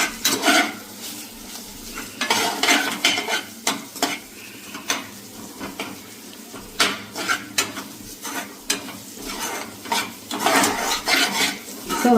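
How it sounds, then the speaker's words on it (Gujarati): Masala being stirred into a stuffed bitter gourd curry with softened tomatoes, made without onion or garlic, in a pan: a low sizzle under frequent clattering, scraping strokes of a spoon against the pan, close and busy. "સરસ હલાવી નાખવાનું."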